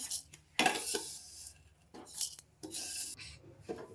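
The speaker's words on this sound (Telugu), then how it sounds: "ఇప్పుడు ఈ సేమియాని మొత్తం వేరొక బౌల్లోకి ట్రాన్స్ఫర్ చేసుకుందాము." Vermicelli being scraped from a pan into another bowl: several bursts of metal utensil scraping and clattering against cookware, separated by short quiet gaps.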